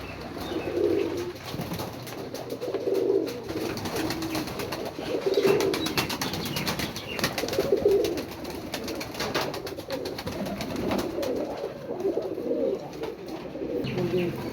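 Pigeons coo steadily at a kabutar pigeon farm, with repeated soft, throaty coos rising and falling through the whole stretch, close by and fairly loud, layered over one another with no talking.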